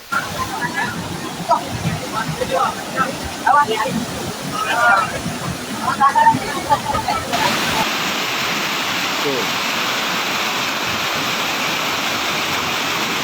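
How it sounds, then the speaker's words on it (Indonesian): Torrential floodwater rushes along a road in Solok, West Sumatra, during monsoon rains, a loud, steady roar like a river. A voice talks over it in the first half before the rushing continues alone. "Ini jalan raya seperti sungai, tanggung besarnya, derasnya airnya."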